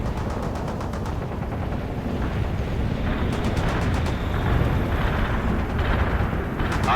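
Artillery barrage in the World in Conflict strategy game: a sustained roar of rumbling blasts and crackling gunfire, dense and loud without a break.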